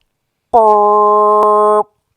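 A voice imitates a dinosaur blowing a vuvuzela: one sustained, buzzy, horn-like drone held for over a second, loud and close, with nothing else around.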